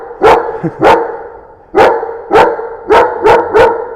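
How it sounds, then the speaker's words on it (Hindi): A dog barking loudly and close by, six sharp barks in an uneven rhythm with a brief pause after the first pair, and no talking over them. "कुत्तों से डर लगता है"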